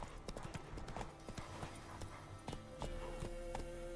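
Hoofbeats of the horse Roach galloping in The Witcher 3 video game, a steady rhythmic clip-clop close by with a brief whinny-like tone near the end and faint talk over it.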